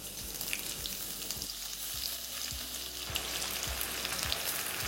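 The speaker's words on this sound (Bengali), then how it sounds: "এবারে গ্রেভিটা বানানোর জন্য আমি এখানে দিয়ে দিচ্ছি 1/2 চা চামচ কালো জিরে, তারই সাথে অল্প একটু পেঁয়াজ স্লাইস করে।" Nigella seeds and sliced onion fry in hot oil, a fairly quiet, continuous crackling sizzle broken by regular soft knocks of stirring, with no talking.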